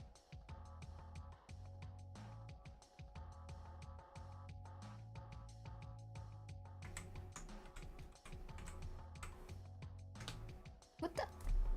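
Fast typing on a computer keyboard, with bursts of clicking keystrokes separated by short pauses, close and clear, and a brief louder clatter near the end.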